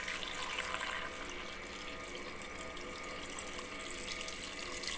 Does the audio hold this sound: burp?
no